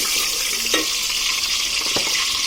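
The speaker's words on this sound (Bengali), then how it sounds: "চুলার আঁচটি কমিয়ে দিলাম, দিয়ে দিলাম তেজপাতা, দারচিনি, লং এবং এলাচি দিয়ে দিচ্ছি।" Bay leaf, cinnamon, cloves and cardamom fry in hot oil over a lowered flame, a loud, close, continuous sizzle with a couple of brief stirring scrapes and no voices.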